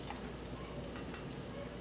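Asafoetida (hing) hits hot oil with a dense, even, continuous sizzle that stays quiet and close throughout, with no voices.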